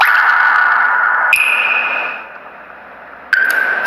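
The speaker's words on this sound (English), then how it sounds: "Listen carefully to the different tones of water droplets here." A bright, clear synthetic water-droplet notification tone from MIUI 10 phone software rings out, changes pitch and fades, then a second droplet tone sounds near the end, crisp and close.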